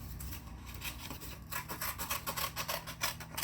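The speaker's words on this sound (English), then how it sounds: "So just kind of go around in a circle, try to get it all those edges cut off as best you can." Scissors snip steadily around the perforated edges of a paper sheet for a mythological horse carousel craft, a close, continuous run of crisp cuts and paper rustling with no talking.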